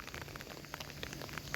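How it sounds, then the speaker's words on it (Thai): Rain falls steadily outdoors, a soft even patter with scattered sharper drops, fairly faint and continuous throughout. "ฝนตกแล้ว"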